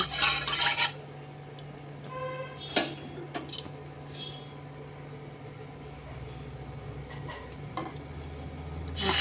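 Jungle fowl meat with turmeric, salt, chilli and spices goes into a wok heated with a little oil, bringing sharp metallic clanks and scraping stirs, then quieter rustling with occasional clinks.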